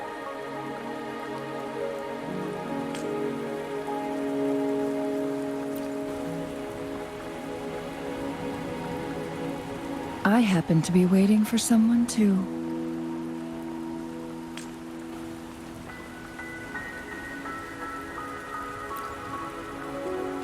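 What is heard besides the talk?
rain falling in the video game Wuthering Waves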